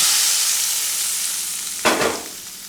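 Kasuri methi frying in a hot pan for chicken mughlai, a steady loud sizzle throughout, with a brief scrape of stirring near the end, close and without speech.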